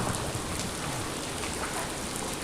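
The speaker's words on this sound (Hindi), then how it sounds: "इतनी तेज़ बारिश हुई है ना" Heavy rain pours down in a dense, steady hiss of countless drops, continuous and unbroken, with no voices.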